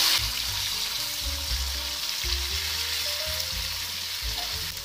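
Cluster beans with green chilli, turmeric and salt fry in a pan with a loud, even hiss and a faint low rumble, holding steady throughout with no talking.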